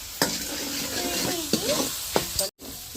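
Onions and ginger paste fry in a pan over a wood fire, a steady sizzle with stirring scrapes and a few sharp clinks of the spoon against the pan, close and alone.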